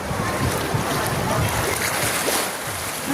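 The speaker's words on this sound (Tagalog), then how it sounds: "Ayan na, yung alon." Steady roar of ocean waves washing in at Balagbag Beach in Real, Quezon, mixed with gusty wind buffeting the microphone, continuous and fairly loud throughout.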